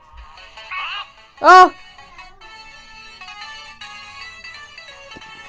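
An ordinary phone rings with a bright, repeating electronic ringtone that plays steadily for several seconds, with a brief spoken exclamation and a short louder burst near the start.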